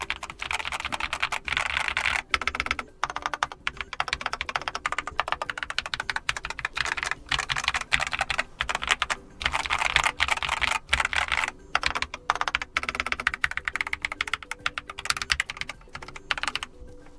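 Steady run of keystrokes on a Keychron K8 mechanical keyboard resting on a rubberized desk mat, close and even-paced with brief pauses, clicks slightly damped.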